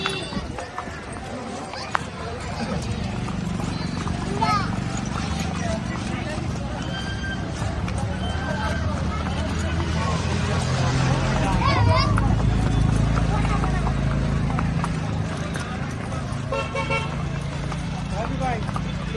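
Horses travel with riders toward Bhavnath, with hooves clip-clopping steadily under an ongoing crowd and voice backdrop and an occasional whinny. Traffic noise rises and falls around them, and people talk throughout.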